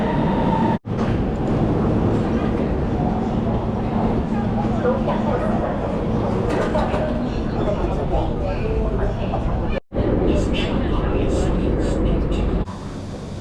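Shanghai metro train ride, with a steady loud rumble and hum of the carriage running throughout, brief dropouts, and people talking faintly under the train noise.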